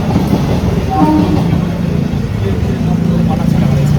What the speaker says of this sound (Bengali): সারাদিন এখানে ট্রেন যায়, দেখো ট্রেন যাবে না কি যাবে বলো?